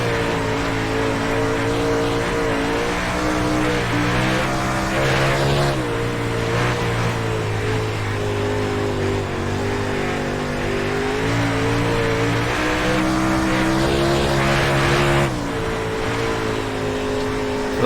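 A 358 Modified dirt race car in the iRacing sim roars continuously, its engine note rising and falling with aggressive throttle through corners, loud and steady with brief tire squeal, no talk.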